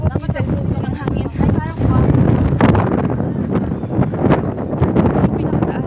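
Wind blasts against a phone microphone outdoors, producing heavy rumbling buffeting that is loud and continuous, with a person talking and panting underneath.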